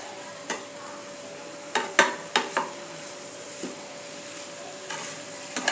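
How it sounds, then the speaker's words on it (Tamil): Spoon stirring a simple potato and fresh pea masala in a pan, with several distinct scraping clatters and a soft steady sizzle underneath, no voices. "நல்லா கிளறி கொடுத்துடுவோம்"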